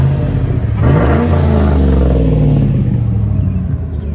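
A lifted 2003 Chevrolet Tahoe with an aftermarket rear exhaust system runs close by, with a steady idle, a sharp rev that climbs and falls away, then a deep settling rumble, and nobody talking.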